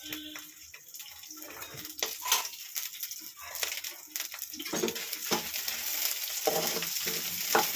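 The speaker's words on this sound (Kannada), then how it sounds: "ಇವಾಗ ಇದನ್ನ ಫ್ರೈ ಮಾಡ್ಕೊಬಿಡೋದ ಫಸ್ಟು ಇದ್ರ ಜೊತೆಗೆ ಮೆಣಸಿನ್ಕಾಯಿ ಒಣಗಿದ ಮೆಣಸಿನ್ಕಾಯಿ ಹಾಕಿದ್ದೀನಿ" Ridge gourd frying in a pan with dried red chilies, a moderate sizzle broken by intermittent scraping stir strokes, growing denser and hissier toward the end.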